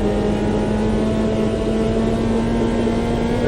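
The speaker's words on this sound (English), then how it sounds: "Really been over revving it a lot." A car engine in the Automobilista 2 racing game drones loud and steady near the rev limiter, a sustained high-revving buzz with no pauses.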